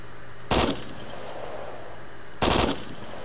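Two loud bursts of machine gun fire in the military video game Arma 2, each a short rapid volley about two seconds apart, close and dominant over a faint background hum.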